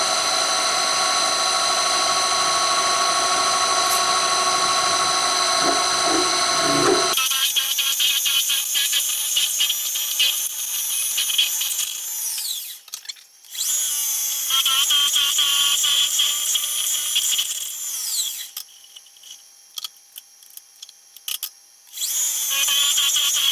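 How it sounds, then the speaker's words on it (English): A drill bores holes in lathe soft jaws at 1900 RPM, giving a loud, steady high-pitched whine. The tone shifts as the bit cuts, with brief pauses and restarts and no talking. "we're going to start and get these holes drilled here"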